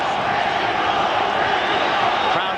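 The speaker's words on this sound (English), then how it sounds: "Crowd shouting Mexico." Dense, steady roar of a boxing arena crowd at a WBO junior featherweight bout between Jimenez and Barrera, a continuous wash of voices shouting and chanting without pause.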